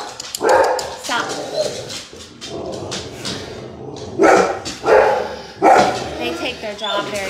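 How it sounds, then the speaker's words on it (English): Pet dogs barking and yipping at home, loud and close in repeated bursts, with whimpers between them and a person talking over them throughout. "My dogs are gonna bark."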